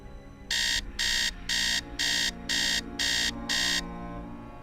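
An alarm clock in the game Message in a Haunted Mansion rings in seven evenly spaced, loud electronic beeps over a quiet background hum, with no one talking.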